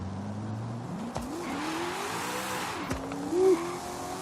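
A Pontiac Trans Am in Forza Horizon 5 breaking loose, engine droning and shifting through gears with pitch rises and drops, then a short tire squeal near the end, all alone without talk.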